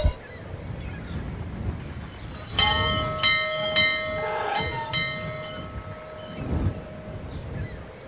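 A small bell in the video game Syberia rings out in a quick series of bright, ringing strikes that fade into a lingering tone, over a low ambient background.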